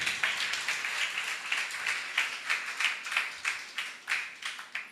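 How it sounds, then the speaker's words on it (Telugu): A church congregation claps loudly together in a steady, fairly quick rhythm, the hand claps filling the hall with no talk over them. "కొట్టు చప్పట్లో ఒకసారి గట్టిగా"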